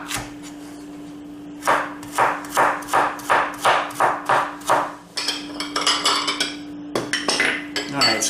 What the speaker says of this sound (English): 1 cup of chopped carrots. So I'm just getting these chopped down a little bit to make chopping a little easier.